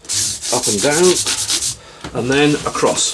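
Abrasive pads rub rhythmically along a Telecaster guitar's fretboard and frets, giving bursts of close, scratchy sanding strokes with a short pause in the middle, while a voice speaks briefly.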